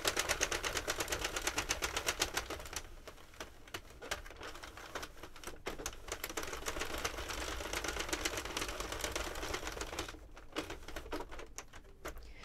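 A circular knitting machine cranked across a row while knitting a raglan sweater, a dense rapid clattering of needles that runs steadily, loud and close, with slight shifts in pace.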